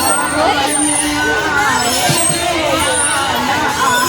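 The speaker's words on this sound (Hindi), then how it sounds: "यहाँ बहुत भीड़ भाड़ है" A busy Sunday crowd fills a children's garden with swings, a dense, close wash of overlapping voices, chatter and children's shouts that continues without a break.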